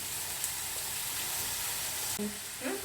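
Onions and green chillies sizzle in a hot pan as they are stirred, a continuous bright hiss with a few faint scrapes near the end, no talking.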